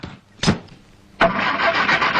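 A foreign-model car starts up: a short sharp click or thump, a brief pause, then the engine catches and settles into a close, steady running roar.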